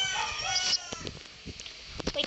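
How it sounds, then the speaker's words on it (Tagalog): A chicken clucks and crows noisily in the background, with harmonic calls near the start, while a person speaks briefly in Filipino. "kasi may maingay na manok dito"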